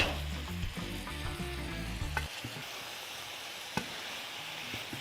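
Root vegetables frying with cumin and cinnamon for a spiced Anatolian dish: a steady close sizzle, a low rumbling stir for the first two seconds, then frying alone with a couple of sharp clicks.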